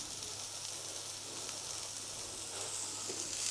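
Sauce bubbling and sizzling steadily in a pan on the stove, a continuous close, even hiss that carries on alone throughout.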